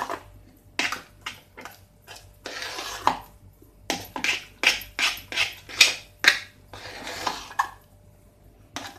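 Medu vada batter being stirred and beaten with soda and salt, giving a series of wet slapping, scraping strokes in uneven bursts, fairly close.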